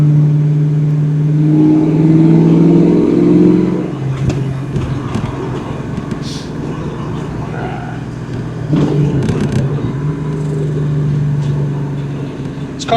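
A 1993 Ford Mustang Cobra running on a test drive, its steady mid-pitched engine drone rising in a rev early on and again later, heard from inside the car with some cabin noise.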